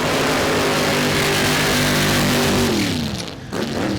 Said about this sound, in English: So, 2 strong burnouts for our next pair.